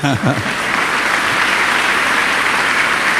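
A congregation at a French-language church service claps in a steady, dense roar of applause lasting throughout, with a brief voice at the very start.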